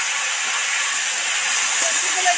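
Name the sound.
vegetables sizzling as they fry in oil with spices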